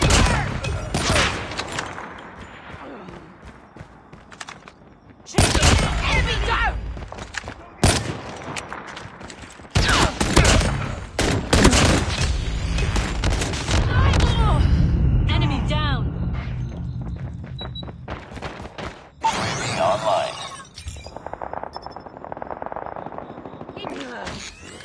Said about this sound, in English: Sentry gun ready for deployment. Sentry gun deployed.